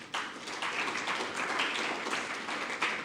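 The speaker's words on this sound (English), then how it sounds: "Can we clap for the team that has launched?" An audience claps for a team at a sustainable finance curriculum launch event, a dense, steady patter of many hands applauding for a few seconds without voices.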